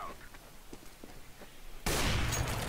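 Gunfire erupts in Counter-Strike: Global Offensive, a sudden loud burst of broadband crackle following a stretch of quiet footsteps and faint clicks.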